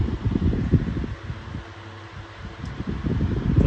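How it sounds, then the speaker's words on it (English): Double blade oscillating electric fan running steadily up close, a low rushing whoosh of moving air that swells and eases slightly as it sweeps, with no voices. "it's a double blade fan as well, it's not even that loud for the amount of air it's moving"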